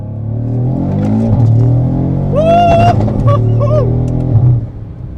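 An Audi accelerating hard in first gear in performance mode with traction control off, a loud close engine roar rising in pitch with a whining tone, then easing off near the end.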